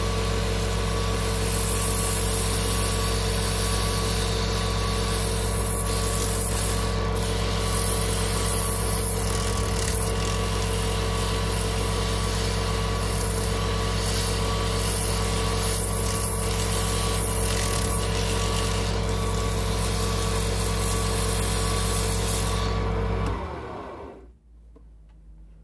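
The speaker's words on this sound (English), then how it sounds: "put the sander on." A homemade friction sander for bowls spinning on a lathe: a loud, steady whirring drone with a high whine that holds evenly for over twenty seconds, then cuts out abruptly as it stops.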